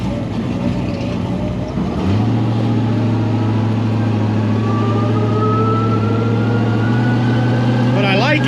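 A 1000-horsepower street car idles during warm-up, its low steady engine drone settling after a change in tone, with a faint rising whine, close and continuous.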